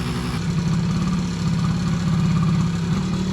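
A rebuilt combustion engine runs after its carburetor has been adjusted, giving a steady, close, low mechanical rumble with an even pulsing idle and no talk.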